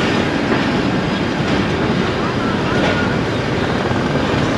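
A local KCR train runs steadily with a loud, continuous rumble and rattle of carriages on the rails throughout, heard from inside.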